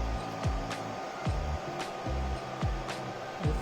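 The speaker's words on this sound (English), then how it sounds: "Now it is printing out." A Creality Ender 3 V2 3D printer at work, its stepper motors whirring steadily with a low mechanical hum and periodic swooping tones as the print head changes direction, close and fairly loud with no talking.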